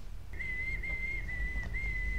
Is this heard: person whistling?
yes